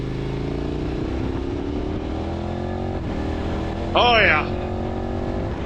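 KTM 1290 Super Adventure R motorcycle on the move, its engine a steady droning hum that climbs slowly in pitch as it gains speed, with a man's brief exclamation partway through.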